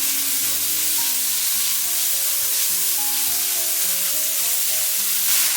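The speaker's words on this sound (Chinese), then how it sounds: "将肉末给它炒散。" Minced meat and chopped shiitake stir-fried in a wok, a constant loud sizzle with scraping and stirring from the spatula throughout, close up and without speech.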